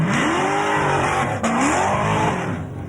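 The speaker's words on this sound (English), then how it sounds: "Here's a Mazda that really sounds good. That's a 383 283 Chev." A Mazda fitted with a 383 Chevrolet small-block stroker V8 revs loudly and close by at a car show, the engine note rising and falling in sweeping pulls.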